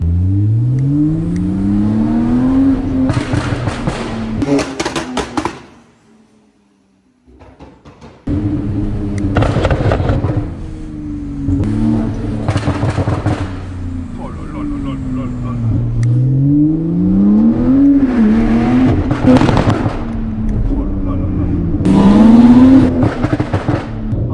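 A Porsche 911 Turbo S revs up through the gears in first, rising and dropping in pitch with each shift, loud and close, with a brief quiet gap near the start.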